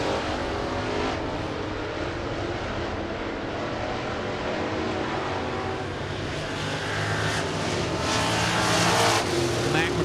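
Super late model race cars lap 411 Motor Speedway during practice, their engines a continuous loud roar that swells as cars pass, under a public-address announcer's voice.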